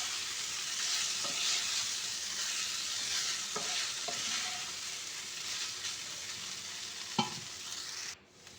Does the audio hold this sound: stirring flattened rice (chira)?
yes